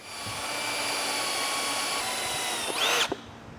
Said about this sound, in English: So I'll get this cut, get the hole drilled for